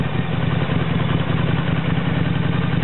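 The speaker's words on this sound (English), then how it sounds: "I'm here today with a 1997 Harley Davidson 1200 Sportster." A 1997 Harley Davidson 1200 Sportster motorcycle engine idles close by with a steady, loud, throbbing rumble and a rough mechanical clatter, heard alone without any voices.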